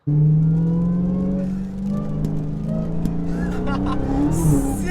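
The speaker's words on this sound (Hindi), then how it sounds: "ऊपर से एग्जॉस्ट नोट ही नहीं, इसका सुपर चार्ज नॉइज भी" A 2023 Dodge Charger SRT Hellcat Redeye with a 6.2-liter supercharged V8 drones loudly and steadily, its exhaust note holding a sustained low pitch with a faint supercharger whine above it.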